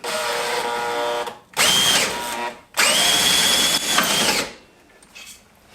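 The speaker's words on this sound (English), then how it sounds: "These I have to drill out anyways" Loud power drill whining through metal on a Yamaha Rhino's bumper bracket in three bursts, the middle two rising in pitch as the bit bites, then cutting off to quiet.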